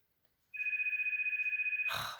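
A telephone rings once, a warbling electronic tone that starts abruptly and holds for over a second before a burst of noise cuts it off, heard alone in an otherwise quiet room.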